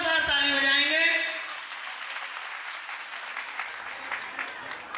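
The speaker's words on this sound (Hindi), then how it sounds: "उन बच्चों के लिए सभी जोरदार ताली बजाएंगे।" A brief spoken phrase is followed by an audience at a school annual day celebration breaking into applause for five selected students, a moderate, steady patter of clapping that continues to the end.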